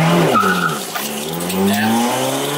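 Tires of a 1972 Toyota Celica with a Weber carburetor squeal loudly while turning, a close, sustained wavering screech lasting a couple of seconds with engine noise beneath.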